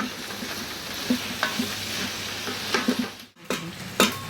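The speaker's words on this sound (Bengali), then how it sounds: "আর একটু ভাজা হবে" Bitter gourd and salted hilsa fry in a pan while being stirred, giving a steady close sizzle broken by scraping utensil strokes and a brief quiet gap near the end.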